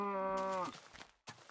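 Cow in Minecraft giving one clear low moo that falls off at the end, then soft shuffling and a short burst of noise, fairly quiet overall.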